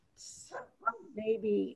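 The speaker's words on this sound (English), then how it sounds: "That's the dog." A dog barks once or twice during a board meeting, short yips mixed in with people talking nearby.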